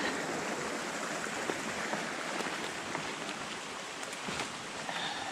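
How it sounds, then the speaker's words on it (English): A small stream, swelling with side streams along a wooded hiking trail on the way to Ellen Falls, rushes in a steady, soft broadband hiss, fairly quiet and constant with no voices. "this is picking up more side streams as we go. It's getting larger."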